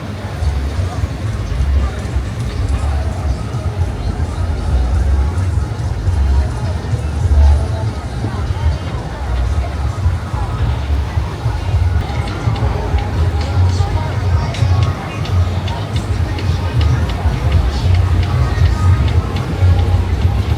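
Dense crowd babble on Laboma Beach in Accra at night, steady and loud, with many overlapping voices and low rumbling background noise throughout.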